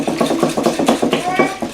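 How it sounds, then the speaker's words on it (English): Gluten-free Dutch baby batter is whisked vigorously in a bowl, giving rapid rhythmic scraping and clinking strokes close up, about eight quick beats with a slightly hollow ring. "Just whisk it vigorously for 30 seconds to a minute, and you'll just get rid of all the clumps super easily."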